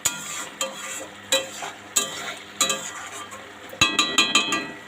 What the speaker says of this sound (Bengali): যতক্ষণ না তেল ছাড়ছে ততক্ষণ মশলাটা কষে নেবো।